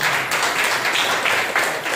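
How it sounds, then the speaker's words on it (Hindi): Church congregation clapping for first-time visitors at a Sunday morning service, a steady wash of dense applause filling the whole moment without a break. "जोरदार तालियों के साथ"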